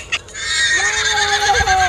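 A horse at Bundoora Farm gives a loud, close whinny with a long, wavering high pitch, preceded by a brief knock.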